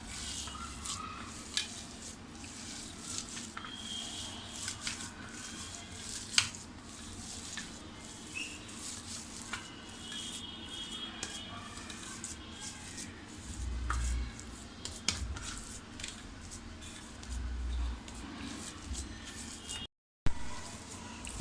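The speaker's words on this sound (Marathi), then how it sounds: "तर हे छान असं आपण एकजीव करून घेऊया" Chicken mince for a Parsi-style cutlet being mixed and worked together by hand, a soft, close, wet squishing and stirring that carries on steadily with small irregular bumps throughout.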